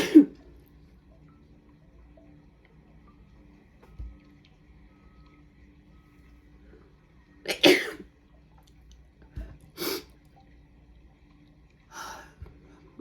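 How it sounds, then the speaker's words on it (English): Several sudden, sharp bursts from one person, apparently sneezes, breaking up a quiet room at irregular moments, with a couple of softer ones in between and no talking. "multiple sneezes."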